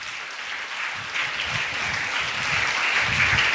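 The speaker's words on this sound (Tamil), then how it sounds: "நீங்கள் கைத்தட்டின வரைக்கும் எனக்கு சந்தோஷம்" A church congregation claps hands during a Sunday service, with steady, dense applause from many people that swells slightly louder toward the end, with no talk over it.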